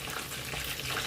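Dumplings fry in a pan, giving a steady, soft sizzle and crackle that holds evenly for about a second without a break.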